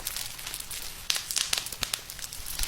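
Bubble wrap squeezed to mimic a Roblox campfire, giving close, quiet, irregular crackles and sharp pops that cluster in the middle and go on throughout, with no talking.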